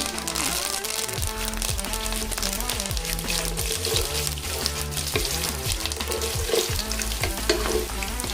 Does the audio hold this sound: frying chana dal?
yes